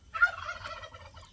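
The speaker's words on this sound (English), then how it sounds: "sounds of the turkey gobble and the chick sounds" A single turkey gobble, a quick warbling burst of rapid notes, fairly close and alone.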